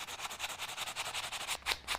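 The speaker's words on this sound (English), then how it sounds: "come back in here with a sanding block and just sand that off" A sanding block scrubs steadily back and forth across a dried glued joint in basswood, a close, rhythmic rasping of even strokes with a couple of heavier, slower passes at the end.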